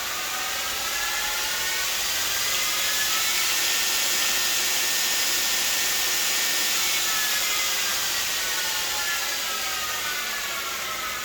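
A 2x48 belt grinder runs steadily at a 2,000 setting, a continuous close, loud whirring hiss with a slight shaking rattle, unchanging for the whole stretch.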